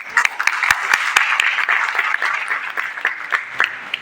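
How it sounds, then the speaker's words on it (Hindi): An audience at a college welcome ceremony claps steadily, a close, dense patter of many hands with sharp individual claps standing out, continuing without speech throughout. "ताली थोड़ा कम आ रही"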